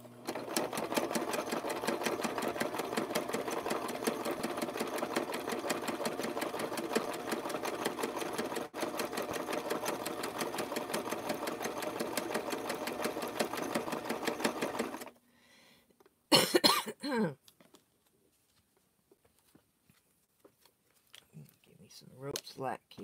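A sewing machine stitches rope into a bowl, its needle clattering in a steady fast rhythm for a long stretch before stopping, followed by a few short bursts and quiet handling sounds.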